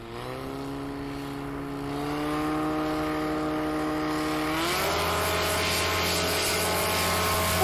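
A light aircraft at a STOL competition throttles up from a steady propeller drone, the engine note rising and swelling louder as it starts its takeoff run, with no voices.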